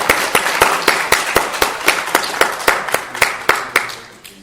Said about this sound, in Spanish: Vamos a darle un aplauso porque se lo merece.